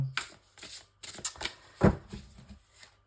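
Tarot cards being shuffled by hand in a few quick riffling bursts separated by short pauses, close and crisp, with no talking.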